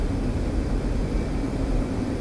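F-15 Eagle jet engine in the DCS flight simulator spooling up, a loud steady broadband roar with deep low rumble, continuous and close throughout.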